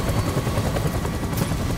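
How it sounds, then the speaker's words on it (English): A helicopter in the video game Death Stranding, set in a Vietnam-era level, gives a short, dense, steady rotor wash and engine roar with a faint rhythmic chop. "Oh fuck, helicopter."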